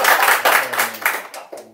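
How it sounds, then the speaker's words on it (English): An audience claps for a man called up to the front at a members' gathering, a short burst of steady applause that tapers off within a couple of seconds, with no talk over it. "Or clap for him."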